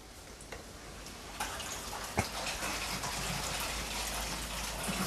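Water flows steadily into shrimp tanks through 10 bar float valves, a continuous rushing hiss with a few faint drips and clicks, close and unbroken.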